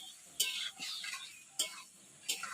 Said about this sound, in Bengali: কড়াইটা একটু ছোট, তাই একটু নাড়তে অসুবিধা হয়